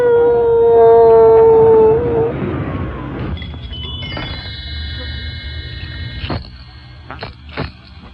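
Drawn-out howling rises from a radio drama, then gives way to quieter background sounds and a few sharp knocks.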